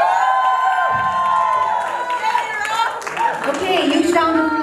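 Guests at a Nepali wedding reception night in Australia clap and cheer in a loose burst of applause with whoops, while a voice talks over the crowd.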